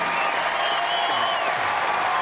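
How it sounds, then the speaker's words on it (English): A crowd at an indoor archery shootdown event applauds the third-place finisher, a steady, loud wash of clapping with a sustained tone running beneath it. "Give a big round of applause to third"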